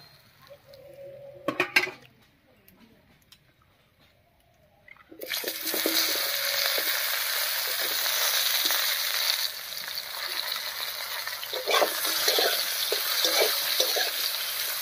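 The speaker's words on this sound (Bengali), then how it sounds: "বেগুনটা ভেজে নেব।" Eggplant goes into hot oil left from frying fish. After a few quiet seconds with light clinks of utensils, a loud, bubbling sizzle bursts up and carries on steadily to the end.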